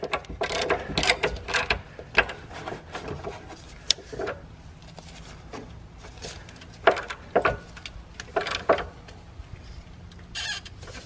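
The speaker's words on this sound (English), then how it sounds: "then tighten the bolt down" Ratchet wrench tightening a bolt on a Corvette frame rail, heard as bursts of quick mechanical clicking in several short runs with pauses between, close and moderately loud.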